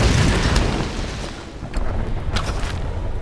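A blast in a Tomb Raider video game roars at the start and eases, then a second surge of crackling, rumbling noise swells back up and carries on.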